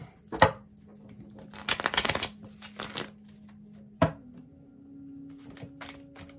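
Tarot cards being shuffled by hand in a quiet room: a few short, crisp riffling bursts separated by pauses, fairly soft, with a faint steady hum beneath.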